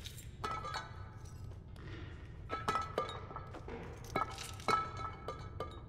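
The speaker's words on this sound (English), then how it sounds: "another like walking on broken glass" Small scattered clinks and crunches of broken glass underfoot in the video game Little Nightmares 2, soft, irregular glassy taps and brief crackles over a low ambient rumble, with a few sharper clinks toward the end.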